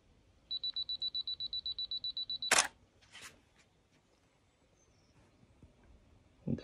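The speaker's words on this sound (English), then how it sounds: "Timer 2 seconds, let's take the shot." A Canon camera on a 50mm macro setup, in aperture priority with a two-second self-timer, beeps a quick steady run of about a dozen high-pitched tones, then the shutter fires with a sharp mechanical clack, followed by quiet handling clicks.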